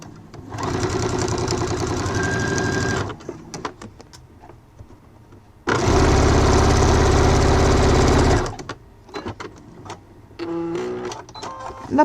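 A sewing machine stitches oilcloth for a multifunction wallet, running in two loud, close bursts of steady rattling whir separated by a pause with small handling noises, then a shorter run at the end.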